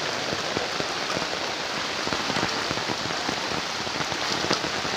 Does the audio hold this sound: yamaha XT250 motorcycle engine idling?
no